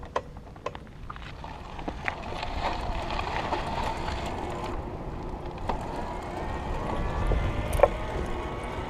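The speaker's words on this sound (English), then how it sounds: "I'm gonna switch this to turbo mode so you can hear the motor activating" Electric hub motor of an Xtracycle EdgeRunner 10E cargo e-bike kicking into turbo mode while climbing a hill in low gear; a steady mid-pitched whir rises gradually under road and wind rumble, with a few faint clicks near the start.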